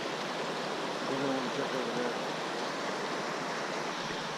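Steady, close rushing of cold, knee-deep stream water while wading in the North River Gorge, a continuous broadband wash with no pauses and no voices.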